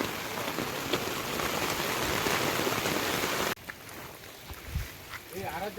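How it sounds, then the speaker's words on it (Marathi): Heavy monsoon rain pours down over a creek during fishing, a dense close hiss that continues more softly after a cut, with voices breaking through near the end. "पाऊस जोरात सुरू झालो."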